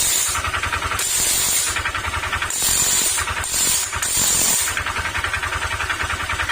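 A running motorcycle engine with a crankshaft fault: a steady mechanical ticking and rhythmic knocking, close up, with hissy bursts rising and falling throughout.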